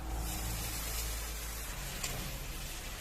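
A splash of water goes into a pan of bottle gourd greens mixed with poppy seed paste, setting off a broad, steady hiss that fills the whole moment.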